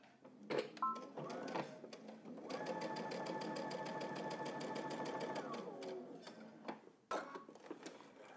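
A home sewing machine runs a long, steady row of gathering stitches for a McCall's 7967 garment, a fast even whir that holds for several seconds, with brief bursts of stitching before and after.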